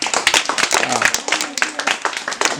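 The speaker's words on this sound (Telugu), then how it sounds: "క్లాప్స్" Classroom students break into a brief, lively burst of clapping, many hands close by with a quick, uneven rhythm, and voices mixed in.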